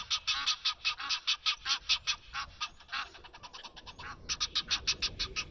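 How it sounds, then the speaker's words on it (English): Birds at a low African waterhole break into frantic alarm calls, a rapid run of loud, harsh, pulsing cries that keeps going almost without pause, with brief overlapping bursts and a faint wash of background sound beneath. "that might be why some of the birds are going crazy"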